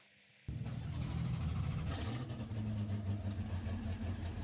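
An F5M Roadster engine in the video game Driving Empire starts abruptly and revs up, a loud throaty drone that rises and holds with fluctuating pitch.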